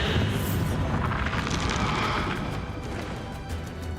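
A Bombarda blasting spell in Hogwarts Legacy, rendered as a sustained roaring explosion with a heavy rumbling boom and crackling debris that fades slightly toward the end.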